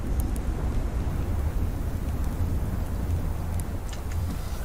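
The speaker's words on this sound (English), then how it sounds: "this is the last storm of winter" Winter storm with thunder in the survival game Subsistence, a continuous heavy roar of wind and rumbling low noise at steady loudness, with no talk over it.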